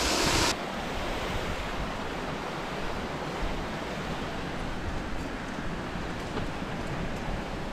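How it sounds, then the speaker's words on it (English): Water pours down a small spillway on a golf course pond, a steady close rushing roar that stays loud and even throughout, with a brief burst of wind noise at the start. "There's a little spillway, it like diverts over there."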